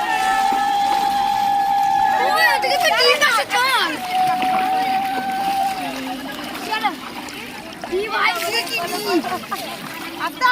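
Water splashing as people bathe and dip in open water during an Ashtami holy bath, with soft irregular sloshes close by under lively talking voices throughout.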